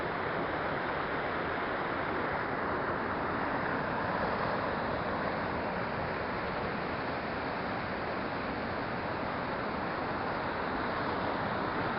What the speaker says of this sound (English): It's like a raging cauldron of foamy water.